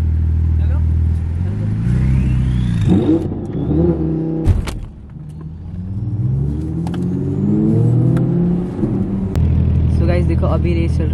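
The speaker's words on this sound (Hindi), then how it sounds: "देखो अभी रेस चल रही है E63 versus GT63" Mercedes E63 and GT63 cars racing on a track, engines revving and accelerating loudly with rising gear sweeps, a sharp break midway, then continued rumbling passes.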